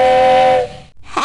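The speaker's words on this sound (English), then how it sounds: "A train, a choo-choo train." A loud, clear train whistle blows once in the 1999 PC game Sesame Street: Baby & Me, holding a steady tone before cutting off, followed by a brief hiss.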